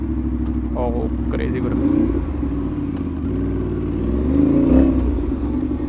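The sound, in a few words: Aprilia RS 457 motorcycle with aftermarket exhaust revving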